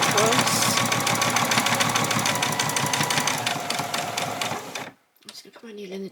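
A domestic sewing machine stitches a long straight seam along the bottom of an apron, a fast, steady mechanical chatter close by that runs for several seconds, then stops abruptly, leaving quiet handling sounds.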